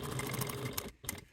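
Sewing machine top stitching a leather bi-fold wallet, a brief close rapid mechanical chatter that pauses briefly before one last burst.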